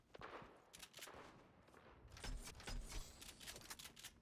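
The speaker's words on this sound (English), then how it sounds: "I can hear some gunshots in the distance." Scattered gunfire in Fortnite crackles in bursts, sounding somewhat distant, with a dense rumbling background and no speech.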